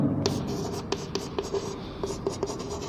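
Writing on a board during a classroom chemistry lecture on SN2 reactions: a run of short, crisp pen strokes and taps tapping out an uneven rhythm, close and clear over a soft room background.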